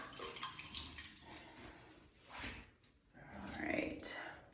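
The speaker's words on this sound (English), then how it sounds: "I feel like I need to rinse that out again before I finish up" Water running at a bathroom sink while a face is rinsed after a facial scrub, faint splashing and gurgling in uneven bursts, with louder swells of water mixed with handling noise.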